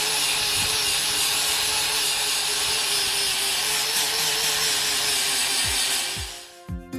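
A power sander grinds over a fiberglass boat hull that has been ground back, a steady loud whirring hiss that runs continuously for about six seconds before winding down at the end.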